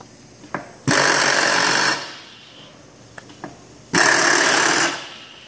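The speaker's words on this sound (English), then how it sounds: "Three horsepower motor, 220 three phase." A Wells Index vertical mill with a three horsepower, 220-volt three-phase motor runs in loud, dense bursts of about a second each, separated by quieter gaps with a few clicks.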